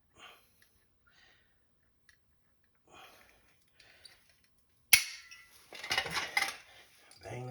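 A Wej-It PD-58 anchor is hammered into concrete for a Max-Jax two-post lift: one sharp metallic bang, then a burst of ringing strikes after quiet handling noises.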